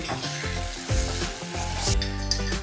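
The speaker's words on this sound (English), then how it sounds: "So I have taken 250 grams of prawns. Let's add that now." Prawns (250 grams) sizzle steadily as they fry in a pan for a mango curry, a close, continuous crackle with stirring noises over soft background music and no talk.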